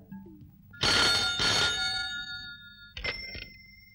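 A telephone rings in a Hindi action film scene with two loud electronic ring bursts, then a brief pause before a shorter, fainter double ring, with no talking over it.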